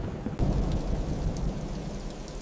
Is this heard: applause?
no